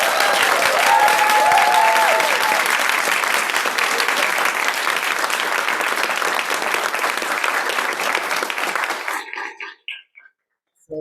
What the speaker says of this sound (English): join me in giving everyone a round of applause, all of our awardees